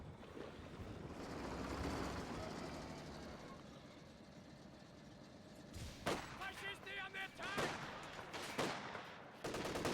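Scattered rifle and machine-gun fire crackles in short bursts over a low, rumbling battlefield din in a World War II strategy game, fairly faint and distant, and a voice talks over it.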